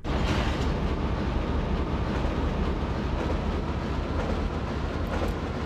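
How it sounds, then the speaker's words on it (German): Train running in Resident Evil 3: Nemesis, a dense continuous rumble and rattle of the moving carriage, loud and steady throughout with no voices. "Ich fahre den Zug"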